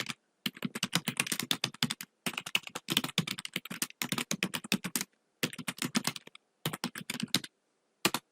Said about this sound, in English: So that way I can type in my full title again.